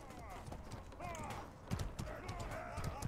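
Horse hooves clip-clopping in the Mordhau game, a quick run of light hoofbeats amid battle noise, fairly faint and irregular.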